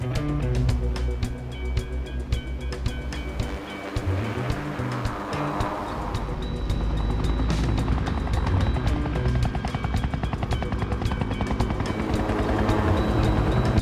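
A Shell helicopter flies offshore near an oil platform, its rotor chop thudding in a steady beat over a continuous engine roar and wind or surf wash, fairly loud throughout with no talk.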